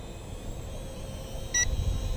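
A single brief electronic beep from an EACHINE E58 quadcopter drone during setup outdoors, sounding once over a steady background of wind and low rumble.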